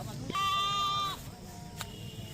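A tall female Rajanpuri goat gives a single drawn-out, nasal bleat lasting under a second, close and clear against a low background murmur, followed by a brief soft thump.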